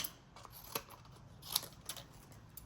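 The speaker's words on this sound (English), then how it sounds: "I'm just going to snip this" Small scissors snip paper during a card-making craft session, a few quiet, sharp cuts spaced irregularly across a faint, otherwise still background.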